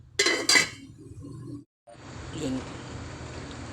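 A lid clinks onto a cooking pot of bamboo shoots set to boil, two sharp metallic knocks near the start followed by quieter rattling, a brief silence, then a low simmering bubble.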